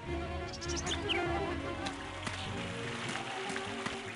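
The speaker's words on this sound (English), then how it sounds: "I hear wasps or something." Wasps buzzing in the video game Nox, a faint continuous insect drone with soft whines and thin chirps layered over a low steady game ambience, with no talking.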